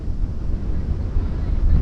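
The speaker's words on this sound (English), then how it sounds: "As you can see, this wind is ripping." Strong headwind gusts across a disc golf course during a European Open practice round, buffeting the microphone in a loud, low rumbling roar that surges and eases irregularly throughout the short stretch.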